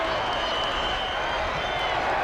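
Crowd at a college football bowl game applauding after a quarterback draw, a dense continuous wash of clapping and cheering, loud and steady throughout the short moment.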